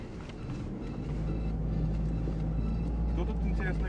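A Mitsubishi L200 pickup rolls over a rough, rutted road, its cabin filled with a continuous low rumble and drone, with soft knocks and jolts from the bumps running throughout.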